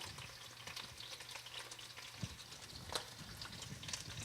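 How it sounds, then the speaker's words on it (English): Sausage fries in a pot for jambalaya, a soft, steady sizzle with occasional pops and small crackles, fairly quiet and without speech. "We're going to go ahead and put our sausage in there, like so. It's already popping, you hear that?"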